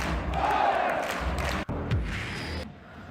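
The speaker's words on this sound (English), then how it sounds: "you can see the crowd going wild" A football stadium crowd at a J-League match roars in celebration after a goal, a dense sustained wall of cheering and shouting with a brief dip midway before the noise swells again.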